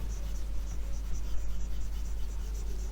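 A stylus rubbing back and forth over a pen tablet while erasing on screen, giving faint, soft, rhythmic scratchy strokes, quiet and close with no talking.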